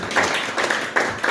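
A church congregation claps during a Christmas Sunday sermon, a short burst of hand claps that swells in three loose waves, moderately loud in a reverberant hall.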